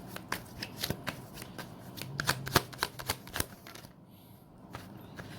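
Tarot cards being shuffled by hand, a run of crisp riffling flicks and soft slaps in uneven bursts, fairly close and clear with no talking.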